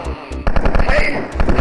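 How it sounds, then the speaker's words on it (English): Rapid chain gun fire in Wolfenstein 3D, a quick stuttering run of sharp digital shots after a couple of isolated bursts, loud and close. "I'll switch to the chain gun."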